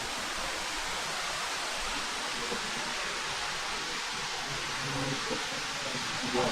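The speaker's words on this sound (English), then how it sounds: "Yeah, that's a big waterfall." A big underground waterfall inside Tuckaleechee Caverns in Townsend, Tennessee, roars as a steady, dense broadband rush, loud and unbroken throughout with no clear talk over it.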